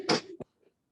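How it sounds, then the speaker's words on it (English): A single short human sneeze, a sharp burst followed by a brief catch, close and alone, then quiet. "I'm about to sneeze"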